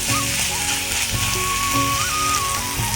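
Slit green chillies frying in a pan with eggs, giving a steady loud sizzle and crackle throughout, with a tonal hum running beneath it and no talk.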